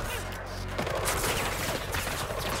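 Dense, loud bursts of rapid gunfire in the Attack on Titan video game, a continuous volley of overlapping shots with no pause.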